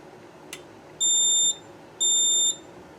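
Two steady high-pitched electronic buzzes, each about half a second long, sounding one after the other from a Notifier Onyx fire alarm control panel in alarm, over a faint background hum.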